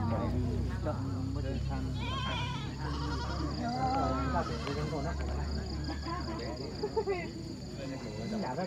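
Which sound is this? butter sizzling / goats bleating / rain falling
goats bleating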